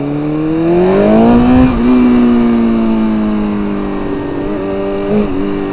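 A motorcycle engine drones steadily while the bike is ridden in cold weather, rising in pitch as it revs up and then settling back. The sound is close and continuous throughout.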